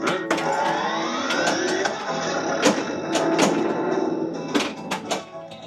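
A repaired Roadshow pinball machine powers up with rising electronic tones, whirring motors and a run of sharp solenoid clacks and thumps, loud and close, with a busy mechanical rattle throughout.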